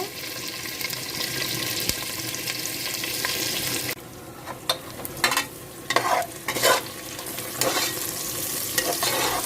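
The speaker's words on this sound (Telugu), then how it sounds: "ఉల్లిపాయలు వేగుతున్నాయండి ఇంకొంచెం వేగాలి" Sliced onions and green chillies sizzling in a pan for meal maker pulao, a steady frying hiss that drops off midway, followed by several close scraping stirs against the pan before the sizzle builds again; no talking.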